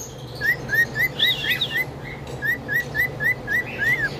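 An Eclectus parrot calls in short, repeated whistled chirps, about a dozen in an even rhythm, clear and fairly close over a low steady background hum.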